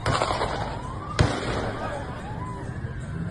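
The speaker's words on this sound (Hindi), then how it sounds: "समुद्री किनारे जश्न मना रहे लोगों पर गोलीबारी की गई है।" A single sharp gunshot-like crack cuts through a noisy outdoor scene during a mass shooting at Bondi Beach, Sydney, followed by crowd murmur and distant shouting.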